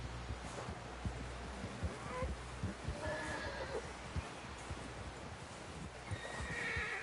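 A horse in the Red Dead Redemption 2 video game neighs loudly, with clip-clopping hooves and steady rustling throughout, and no talking.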